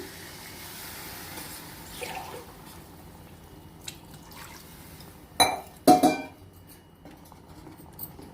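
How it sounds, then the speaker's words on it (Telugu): Water is poured from a glass into a pot of spicy Andhra-style broiler chicken curry in two short, splashy bursts, preceded by quiet kitchen background and faint clinks. "one one and half glass water పోస్తున్నాను"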